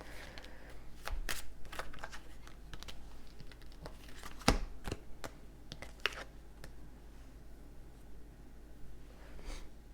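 Tarot cards are reshuffled by hand in a quiet room: scattered soft riffles and flicks of cards, with one sharper snap near the middle, faint and close.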